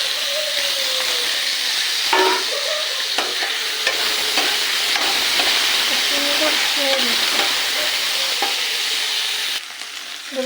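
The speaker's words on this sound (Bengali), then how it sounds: "এবার দিয়ে দেবো টমেটো কুচি আর কাঁচা লঙ্কা চেরা।" Chopped tomato and slit green chillies fry in a pan with a hilsa fish head, a loud continuous sizzle broken by repeated stirring scrapes and clinks, close and with no talk.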